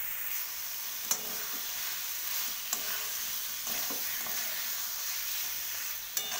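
Potato and cauliflower pieces drop into hot oil and fried masala for a paneer curry, crackling in a steady close-up sizzle, with a few sharp clacks of a spoon stirring against the pan.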